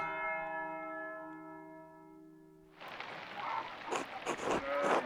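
Heavy storm rain in the video game Pentiment, a dense steady wash of rain that starts suddenly partway through, following a sustained ringing bell-like tone, with gusting surges growing louder toward the end.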